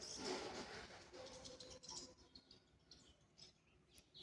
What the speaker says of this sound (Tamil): பாருங்கள் ஃப்ரெண்ட்ஸ், எவ்வளவு பறவைகள்